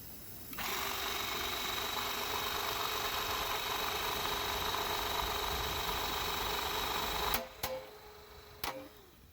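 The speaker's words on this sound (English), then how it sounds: "Now I'm going to stick in the punch and punch out the full size of the hole." A knockout punch cuts the full-size hole in an electrical box after a carbide hole saw: a steady mechanical hum for about seven seconds, then a couple of sharp snapping clicks as it finishes.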